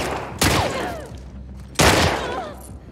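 Gunfire in the game The Last of Us Part II cracks out in two loud, separate shots with ringing, ricocheting tails, each dying away over about a second.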